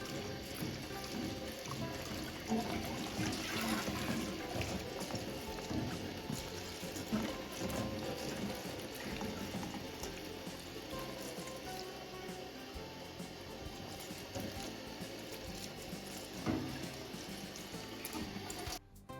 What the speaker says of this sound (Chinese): 接着把葡萄倒进漏盆里，用流动的清水反复多冲洗几遍，把表面的盐分、小苏打残留全部冲干净。